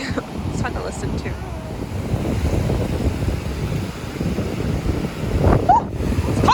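Waves wash in steadily at a rainy Fort Myers waterfront, a continuous close surf mixed with wind buffeting the microphone and a couple of faint bird calls toward the end.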